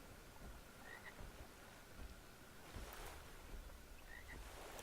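Frogs croak in a Guild Wars 2 swamp, a dense, continuous chorus of faint croaks mixed with soft wind and distant surf-like wash, with no one talking.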